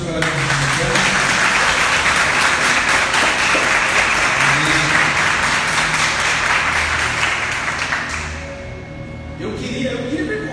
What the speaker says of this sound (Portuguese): Em nome de Jesus, eu queria que todos aplaudissem ao Senhor pela vida.